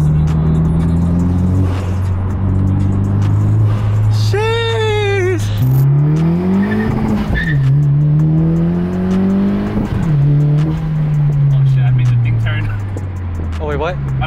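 A 10th-generation Honda Civic Si fitted with a PRL Cobra cold air intake revs loudly from inside the cabin, the engine rising and falling through several pulls and shifts, with excited talking over it throughout.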